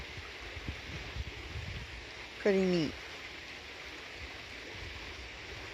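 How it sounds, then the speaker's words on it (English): Water runs over rocks in a small woodland waterfall, a soft continuous splashing hiss throughout, interrupted midway by a brief spoken remark. "That actually looks like a little waterfall right there."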